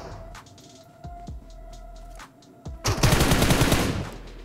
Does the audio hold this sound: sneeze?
no